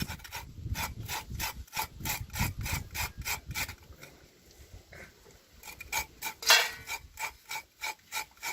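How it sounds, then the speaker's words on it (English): Whole nutmeg grated by hand for homemade chocolate, a close, rhythmic rasping scrape repeated in quick strokes, briefly pausing midway before resuming, with no talking. "Grate them, grate the nutmeg, make the chocolate tasty, very tasty."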